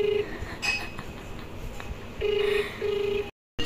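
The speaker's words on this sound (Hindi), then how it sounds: "सो गाइस फोन आ गया है, उठाते हैं अब।" A telephone rings during a call, heard as short repeated electronic ring tones in a few bursts with quiet gaps between them, fairly clear and close, with no talking.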